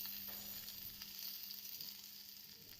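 Bottle gourd being stirred and mixed in a pan for lau shukto, a faint steady sizzle with soft scraping movements, close by and quiet, with no voices.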